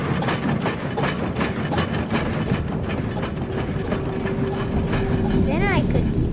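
The California Skunk Train rolls along the rails, a steady rumble and clatter running continuously throughout, with a brief squealing whine near the end and a voice speaking over it.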